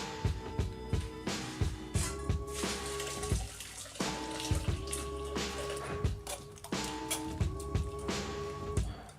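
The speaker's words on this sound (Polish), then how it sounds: "Powoli to przecedzamy przez sito." Rhubarb liquid pours and trickles steadily, with repeated splashy, gurgling bursts and clinks as it runs through a sieve into a vessel nearby.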